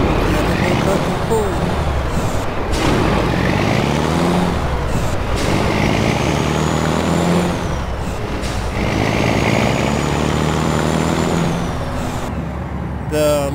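International 9800 cabover truck in American Truck Simulator, a steady loud engine drone with shifting pitch and hissing air-brake bursts, hauling an oversized load, with someone talking over it.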